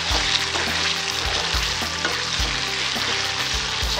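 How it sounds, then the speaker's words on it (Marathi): Thick raw banana halwa sizzles and is stirred in a pan as it cooks down, with a steady frying hiss and regular scraping, thudding strokes of the spoon, close and loud, with no talking. "बघा अशा प्रकारे आपला हलवा असा घट्ट होत जाईल. तो आपल्याला हलवत राहायचं आहे."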